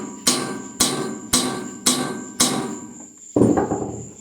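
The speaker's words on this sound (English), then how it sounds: "You just start gently tapping." A hammer gently tapping on an engine flywheel during recoil base and flywheel removal, six distinct metallic clinks evenly spaced about half a second apart, close and clear, each ringing briefly before the next strike.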